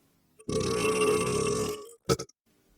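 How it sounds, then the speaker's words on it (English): A long, deep, loud belch rumbles for over a second, followed by a short double burst of a second, smaller burp. "parted his thick lips to release an earth-shaking belch"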